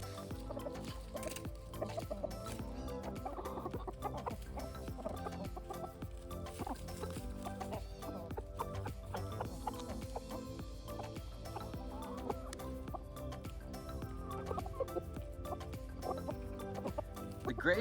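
Backyard chickens cluck softly and peck close by as they eat beautyberry, the low murmuring calls continuing steadily with small taps and rustles.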